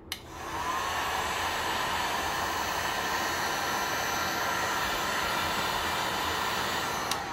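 A heat gun blows a steady, loud whoosh of hot air over a resin geode coaster for several seconds, alone, starting and stopping with faint clicks.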